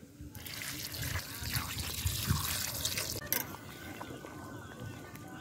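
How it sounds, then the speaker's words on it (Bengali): Water poured into a simmering fish and pointed gourd curry in a pot, a steady splashing pour that gives way to quieter bubbling, close, with a voice talking over it. "জল দিয়ে দিলাম।"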